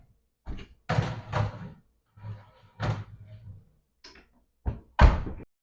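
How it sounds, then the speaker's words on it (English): An oven door thunks shut during Christmas cookie baking, with several firm, close knocks and bumps in a short burst of kitchen handling. "now it's time to put them in the oven"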